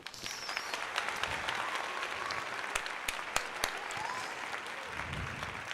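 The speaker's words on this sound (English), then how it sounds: "That does deserve a nice round of applause" Scattered applause from a small group during a Philadelphia 76ers at Toronto Raptors live play-by-play stream, a steady dense patter of claps at moderate level with a few sharper individual claps standing out.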